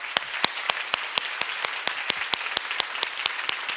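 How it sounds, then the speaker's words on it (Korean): Church congregation clapping hard in a steady unison rhythm, about four sharp claps per second, close and even throughout with no voices. "박수하세요"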